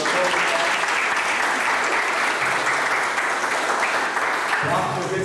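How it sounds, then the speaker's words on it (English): A room full of people claps for the organiser of a community event, dense steady applause close by throughout, with a voice coming in near the end. "Let's give her a round of applause, please, for a good event."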